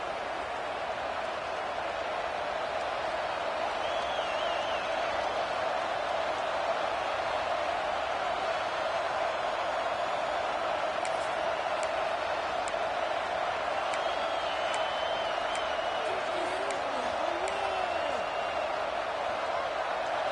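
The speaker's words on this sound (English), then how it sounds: "The noise is deafening, trying to make sure only the Gators get out of the swamp on third down." Loud, constant roar of a stadium crowd at a Florida Gators versus Nebraska college football game in the Swamp, sustained at full volume throughout with a faint whistle-like tone and a voice briefly audible above it.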